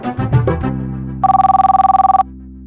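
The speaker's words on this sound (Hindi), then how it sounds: "घंटी जा रही है।" A telephone rings: one loud, even electronic trill lasting about a second, near and clear, after a short burst of other sound and with a low steady tone underneath.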